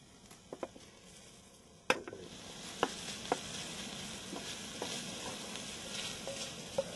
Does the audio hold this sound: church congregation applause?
no